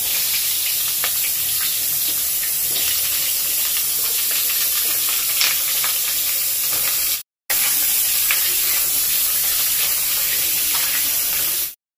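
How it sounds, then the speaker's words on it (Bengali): Potatoes frying in oil for a mutton curry, a loud continuous sizzle and hiss heard up close throughout, with a brief dropout near the end. "এখানে তেলের মধ্যে আলুটা ভেজে নিচ্ছে।"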